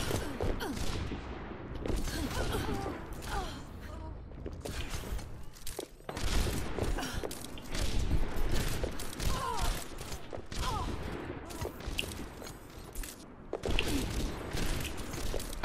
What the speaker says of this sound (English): Bullets just stream past me.